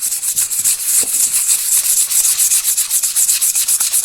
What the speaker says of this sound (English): usually the first few sandpapers are just to take off the old finish